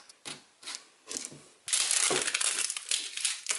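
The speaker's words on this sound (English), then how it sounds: "So let's just go ahead and first cut open the shrink wrap." Shrink wrap being cut open on a car dash cam box: a few short crinkly scrapes, then a sustained crackling rip of plastic film close by.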